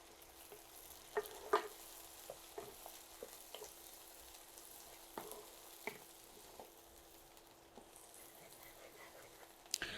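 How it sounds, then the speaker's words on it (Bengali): Crushed local garlic and onions fry in mustard oil with a soft, steady sizzle, punctuated by scattered clicks and taps of stirring in the pan. "রসুন পেঁয়াজটা ভেজে নিয়েছি,"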